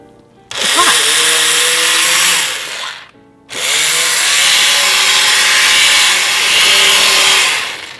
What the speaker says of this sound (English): I'm just going to cut my heat and take my stick blender and I'm gonna blend this up right